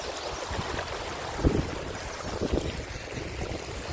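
Flowing river water in a forest, a steady broadband rush with a few soft low splashes, continuous and fairly close with no voices.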